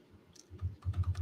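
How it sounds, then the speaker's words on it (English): A button clicked rapidly over and over in a timed challenge, the clicks speeding into a dense run of close, fairly loud taps toward the end. "How many times can I click this in 20 seconds?"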